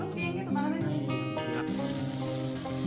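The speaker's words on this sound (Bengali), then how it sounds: "এখানে কড়াইতে তখন টমেটো, পেঁয়াজ, কাঁচা লঙ্কা সহযোগে ডাল ফোড়ন দেওয়ার ব্যবস্থা চলছে।" Tomato, onion and green chili fry in a wok for dal in a trekking-hut kitchen, a steady close sizzle running the whole time beneath tonal background music.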